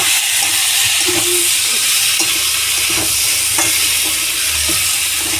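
Spices with a small spoon of Kashmiri red chilli powder are stirred in a frying pan with beans and tomatoes, a steady close sizzle under repeated scraping strokes of a spoon against the pan.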